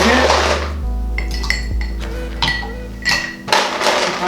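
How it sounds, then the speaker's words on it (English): Ice cubes clatter and clink into a metal cocktail shaker for a cosmopolitan in a few quick bursts, close and bright, with no voices. "some ice, put it in our mixer"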